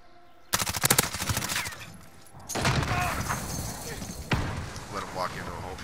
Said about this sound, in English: They got a sentry gun right there, so I'm kind of pinned, man.